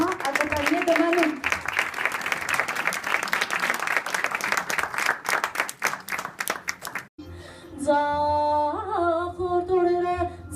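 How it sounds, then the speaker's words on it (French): Audience applause at a colloquium and stage show marking the centenary of the Armenian genocide: loud, dense clapping with a voice over it for about seven seconds, then the clapping stops and music with singing takes over. "vos chaleureux applaudissements"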